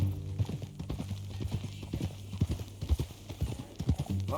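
Horse hooves clip-clopping at a steady walking rhythm in the Red Dead Redemption 2 video game, fairly close and clear, with a low hum underneath.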